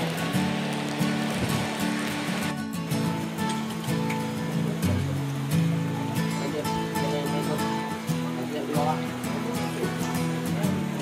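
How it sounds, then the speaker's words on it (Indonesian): Rain pattering steadily on surfaces at a rafting waterfall on the Selabung River in South Sumatra, with people talking over it and a busy, watery background. "Cuma hujan ini ya."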